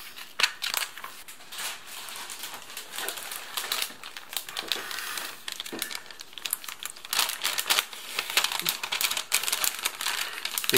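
Tape is handled on a Czech army ration pack with a big heating pot inside. The crinkling, crackling packaging comes close up in irregular bursts, scrunches and tears.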